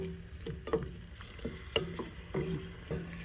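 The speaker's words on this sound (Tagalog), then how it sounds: "So gisa tayo ti bawang ken sibuyas ken laya." Garlic, onion and ginger sautéing in a pan for an Ilokano pinakbet, with a soft sizzle and quiet, irregular scrapes and clicks of a spatula stirring, close and faint.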